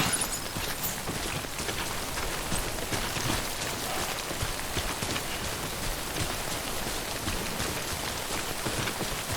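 Steady timefall rain pours in the video game Death Stranding, a dense, even hiss of drops on surfaces that holds at constant loudness throughout with no voices.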